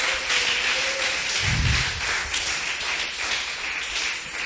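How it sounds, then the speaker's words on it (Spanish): A church congregation claps together as an offering to Jesus, a dense wash of applause that runs steadily through the clip, with one brief low thump partway in. "¿Cuántos le pueden dar una ofrenda de palmas a Jesucristo en esta tarde?"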